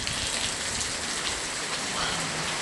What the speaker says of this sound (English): The rain is so nice.